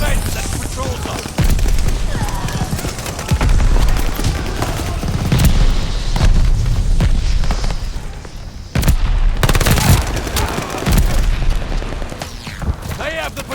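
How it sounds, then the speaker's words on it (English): Mortar blasts in a Mass Effect Legendary Edition multiplayer match, with repeated booming explosions and gunfire bursts mixed with game voice announcements throughout. "Mortars incoming"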